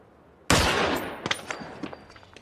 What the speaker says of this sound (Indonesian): wanita itu malah ditembak.